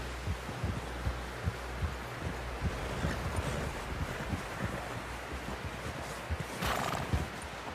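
Steady clip-clop of horse hooves at a trotting rhythm in Red Dead Redemption 2, close and continuous, with a whinny near the end and a low wind rumble underneath.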